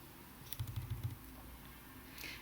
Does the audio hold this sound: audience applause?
no